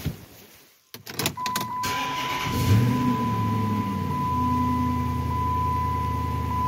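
Chrysler 300 engine starting up after a new belt install, a short cranking burst followed by a steady, fairly loud idle with a faint high whine running through it, no talking.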